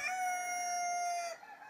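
Luong Phuong chickens in a free-range farm yard, with a single long, loud rooster crow that holds steady before trailing off, followed by a little background clucking. Nobody speaks.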